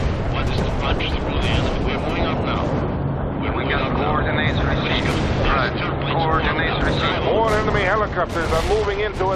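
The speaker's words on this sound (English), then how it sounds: "Helicopters are moving in to attack you, Romano." Helicopters approach in the World in Conflict game amid a dense, continuous roar of engines, gunfire and explosions, with radio-style voices talking over the din throughout.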